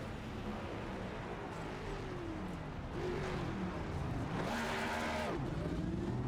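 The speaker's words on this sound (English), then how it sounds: "Giving him a bit of a rev bomb up there to celebrate" A stock car in an Adam Petty tribute livery revs its engine in a celebratory rev bomb at the Brickyard, rising pitch sweeps heard amid crowd and track noise while a commentator talks over it.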